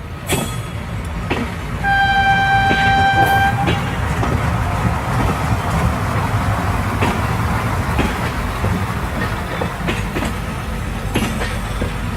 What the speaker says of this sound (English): let's go downstairs and take a look at that outstanding model railroad